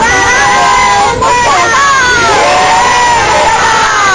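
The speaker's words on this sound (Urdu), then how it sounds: "ہم چاہیں گے ذرا نعرہ ہو جائے" A loud crowd at a Pakistani political gathering shouts and cheers together in a dense, continuous roar, voices rising and falling in rhythm like a chanted slogan.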